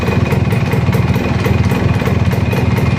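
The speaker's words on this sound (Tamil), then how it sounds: "வண்டி ஸ்டார்ட் ஆயிடுச்சு நண்பா. சக்ஸஸ்." A TVS Max 100 motorcycle engine runs after carburetor cleaning, idling loud and close with a steady, rapid putter throughout.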